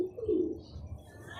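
A pigeon gives a soft, low coo close by, one brief rolling call against a quiet background.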